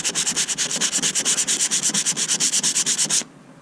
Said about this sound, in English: And you just start sanding it down.